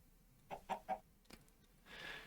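Clucking from a sand chicken in StoneBlock 3, three quick soft clucks followed by a short isolated note and a brief breathy tail, faint and alone.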